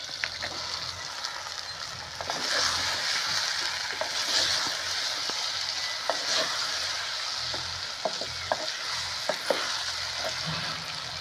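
Pieces of elephant foot yam frying with softened tomatoes in a pan, giving a steady close sizzle throughout, with light scattered clicks of stirring on top.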